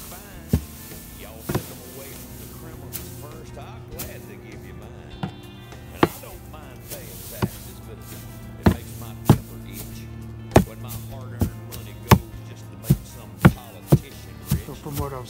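A backyard compost pile being stirred with a tool: sharp, irregular knocks and thuds that start sparse, then come faster and louder, over a low steady background hum.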